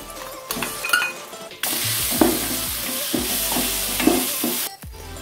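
Curry leaf paste fries with a steady hiss in a hot pan while a spoon scrapes and stirs it in repeated strokes, close and alone with no voices.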